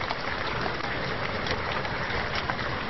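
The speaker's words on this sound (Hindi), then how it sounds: "एक बार फिर उसी तरह बारिश हो रही है।" Steady rain falls at night as a dense, even hiss with scattered soft patters. It continues unbroken throughout with no voices.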